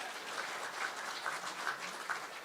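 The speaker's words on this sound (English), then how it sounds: "let's give that a round of applause" Audience applause at a city's State of the City address in Hagerstown, a steady dense wash of many hands clapping from a sizable crowd at moderate distance, continuous with no voices over it.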